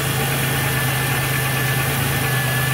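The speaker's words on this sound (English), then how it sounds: "There's that kind of little knocking." A car engine with a slight knocking idles close by, giving a steady, continuous mechanical hum with no pauses.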